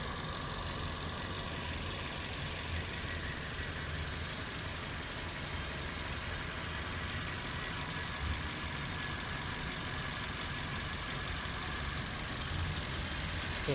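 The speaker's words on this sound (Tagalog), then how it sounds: "Okay na. Wala nang nginig yung makina." A Toyota Vios with a dual VVT-i engine idles steadily after a misfire repair on the number 4 cylinder valve, giving a continuous even hum with a faint high whine and no talking.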